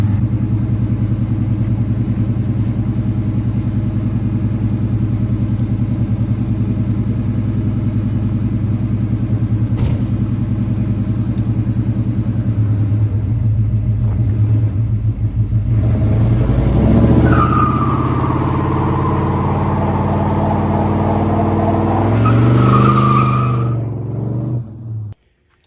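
A Chevrolet Monte Carlo with a worn TH350 transmission runs steadily as it drives, a loud close engine drone that holds for a long stretch, then revs and shifts before cutting off at the end.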